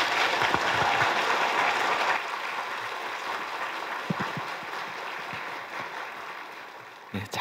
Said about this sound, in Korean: 뜨거운 박수로 우리 목사님 환영하기 원합니다.